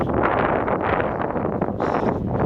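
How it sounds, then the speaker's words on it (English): Strong, steady wind on a road buffeting the microphone, loud and rumbling throughout, with rustling gusts and no voices. "So it's a bit windy on this road."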